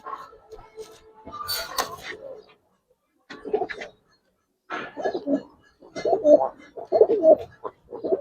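Giribaz and colored pigeons coo in soft, repeated bursts close by, with short pauses between calls and people talking at intervals.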